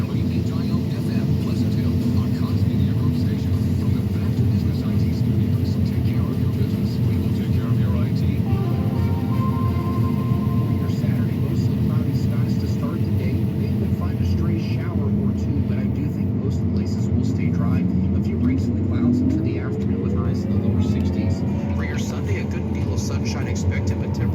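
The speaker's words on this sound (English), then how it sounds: "I like the combine warm up good." A John Deere S780 combine warming up, its engine a steady, loud, continuous drone heard from inside the cab. The pitch shifts slightly partway through, and people talk over the noise.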